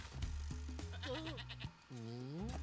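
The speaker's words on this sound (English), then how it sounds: "We got a goat." A goat bleats in the Spyro the Dragon video game, a few wavering, nasal cries over a steady game soundtrack with no talking.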